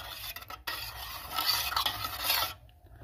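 Green chili and grated mango ginger being stirred into thick curd for a dahi baigana dish, with close, wet scraping and mixing strokes against a bowl, steady then stopping abruptly near the end.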